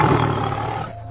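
A cartoon tiger lets out a loud, sustained roar with a gritty growling texture, holding steady for about a second before easing off.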